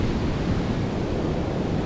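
Storm surf on a pebble beach in Sochi, with seawater washing up the shore. A steady, loud, broadband roar of breaking waves runs throughout, mixed with wind buffeting the microphone.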